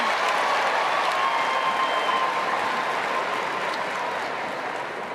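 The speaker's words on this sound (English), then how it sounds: "Everybody's cheering the Lab on." A large dog show crowd at the 2024 Sporting Group judging applauds and cheers for a Labrador Retriever, a loud continuous wash of clapping and crowd noise, with a faint whistle-like tone running through it.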